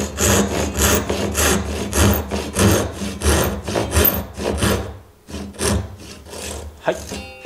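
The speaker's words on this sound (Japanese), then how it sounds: "こういう形でちょっと隅線の上側を少し切りました" Japanese hand saw cuts a wooden tenon for a joined stool in steady rhythmic strokes, each pass a crisp rasping rip, loud and close, slowing and stopping near the end.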